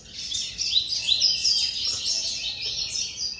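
A male tiziu (blue-black grassquit) sings a series of high, buzzy chirps and trills, fairly close and alone, with a thin steady background hiss.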